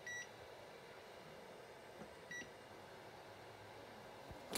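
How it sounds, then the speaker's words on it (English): Timer on an ST 3042 vacuum heat press, used to heat a slate piece to 400 degrees, sounds two short, faint electronic beeps spaced about two seconds apart over low room hum. "The timer just went off, okay?"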